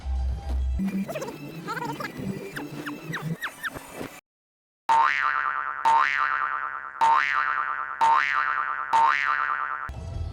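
A series of cartoonish springy boing effects, the first wobbly and chaotic, then after a short silence five repeated bouncy boings in a steady rhythm.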